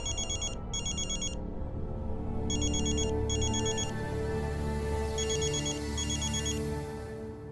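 A telephone rings for an incoming call in three pairs of electronic trills, a steady background hum running beneath.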